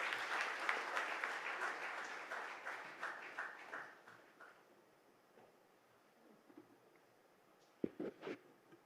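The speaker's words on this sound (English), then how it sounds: "Ladies and gentlemen, please, a huge round of applause." Audience at a stage event applauding as a speaker comes up, steady clapping that thins out after about four seconds into quiet, followed by a few sharp knocks near the end.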